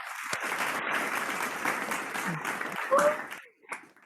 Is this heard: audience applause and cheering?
yes